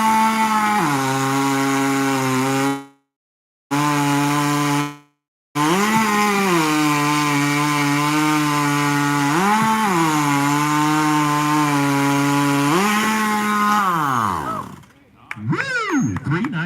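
A chainsaw with a blower-fed fuel system revs and bogs as it cuts through wood, its engine drone rising and dipping under load across several cuts, with two brief breaks and a spluttering wind-down at the end.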